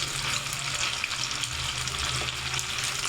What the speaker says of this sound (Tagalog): Makakain na po kayong fried tofu.